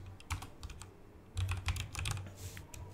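Typing on a computer keyboard, with quick clusters of crisp key clicks separated by short pauses, close and clear with no voices.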